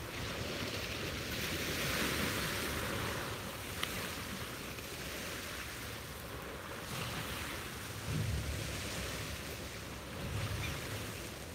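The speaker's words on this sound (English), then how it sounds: "the sound of the waves" Ocean waves wash onto a beach at sunrise in a steady broadband roar with gentle swells, joined by wind buffeting the microphone, with no voices.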